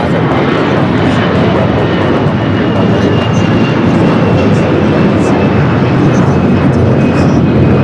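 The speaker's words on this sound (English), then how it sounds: "United Airlines coming in from Hong Kong, flight 153, a" A United Airlines Boeing 787 Dreamliner arriving at LAX from Hong Kong gives a loud, steady roar of jet noise. The broad rumble holds constant throughout, close and with no talk over it.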